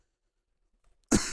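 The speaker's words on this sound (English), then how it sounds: "Hold on, I'm gonna cough 1 sec." A single short, close cough bursts out near the end after a second of near silence.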